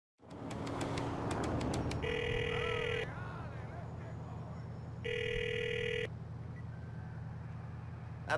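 A public phone booth in the GTA IV video game rings in two long electronic bursts, with a low engine and traffic rumble running underneath.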